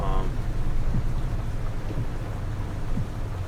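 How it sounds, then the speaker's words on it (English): Steady rain in a farming simulator game pours on as a continuous broadband hiss with low rumbling beneath, loud and unbroken throughout. "until the rain stops"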